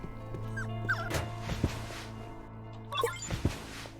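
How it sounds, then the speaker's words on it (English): A hungry, malnourished dog in the video game Tales of the Neon Sea whimpers and yips in short, plaintive bursts over a steady low background hum. "What's wrong with this dog?"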